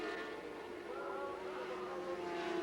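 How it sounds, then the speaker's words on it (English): A 600cc Yamaha supersport motorcycle racing at Mallory Park in the 1980s whines at a distance, its pitch holding and slowly rising, faint under a broad wash of background noise. "So the 600 Yamaha, Phil Borley going very well indeed."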